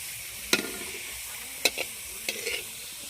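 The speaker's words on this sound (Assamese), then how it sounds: "এতিয়া আমি পাপৰ ভাজিম" Papad goes into hot oil to fry, a low steady sizzle broken by three sharp, brief crackles as pieces are turned or pressed, heard close with no talking.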